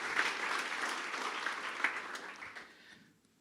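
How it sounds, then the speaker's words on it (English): Warm applause from a tech conference audience at a front-end lightning talks event, steady broadband clapping for about three seconds before tapering off into quiet. "so warm applause"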